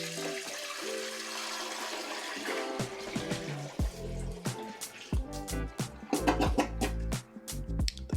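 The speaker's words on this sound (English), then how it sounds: "I just want to dump some water in here just to make sure nothing's leaking out the bottom." Water is dumped into the bowl of a newly installed toilet, first a steady pour and then a series of splashes and gurgles that grow louder and choppier toward the end.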